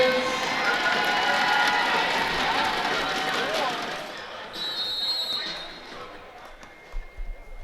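A crowd at a Unified Sports basketball championship game claps and cheers loudly and steadily, the applause fading out over several seconds with a few thuds near the end.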